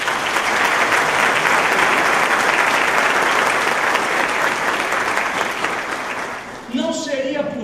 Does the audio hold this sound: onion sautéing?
no